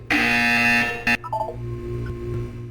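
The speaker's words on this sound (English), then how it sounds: "You will hear a buzzer. When you hear the buzzer, look up at the ceiling." A loud, harsh electronic buzzer from the video game Portal 2 blares for about a second, cuts out, then gives a brief second burst before a low hum remains.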